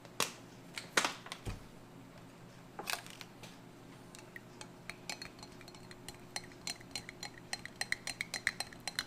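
An MRE food pouch, Long Life Food potato soup or chicken with vegetables, stirred with a spoon, giving scattered light scraping and clinking taps that grow denser and more rhythmic toward the end, close and fairly quiet with no talking.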